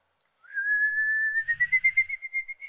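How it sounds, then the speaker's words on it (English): A person whistles one steady, rising tone that holds clear and sustained, then breaks into a quick fluttering warble near the end, close and fairly soft with no talking. "The first way I ever learned to whistle though was put your tongue behind your teeth."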